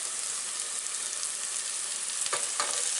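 Onions with a little dried basil and parsley sizzle steadily in a frying pan, with a few louder scrapes of stirring near the end, close and alone.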